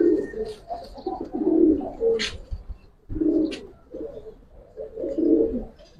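Giribaz pigeons coo in a series of low, throaty calls that come in several rounds and sit fairly close, with some soft background noise between them.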